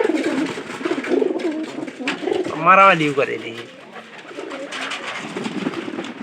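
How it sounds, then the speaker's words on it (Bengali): Jalali-coloured pigeons coo in a short, rolling burst close by during a bath, while someone talks over and around the calls. "আমাদের এই যে জালালি কালারের কবুতর কিন্তু 3-4টে এখানে আছে"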